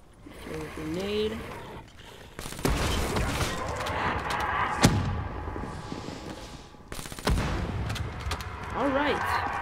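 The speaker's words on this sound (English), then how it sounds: "Throw a grenade." A grenade explodes in Black Ops III zombies on The Giant map, one of several sharp, loud blasts among gunfire and mechanical game noise, with someone talking intermittently.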